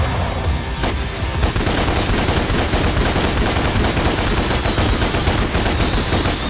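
Dense, rapid gunfire from the video game Devil May Cry, a loud and continuous stream of overlapping shots and bangs with no break across the whole stretch.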